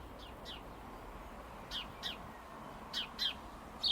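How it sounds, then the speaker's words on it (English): A blue tit and other birds nesting in a garden allotment give short, bright chirps in pairs and small bursts over a steady outdoor hiss, moderately close and clear. "there's a blue tit right there. There's loads of birds nesting in that thing"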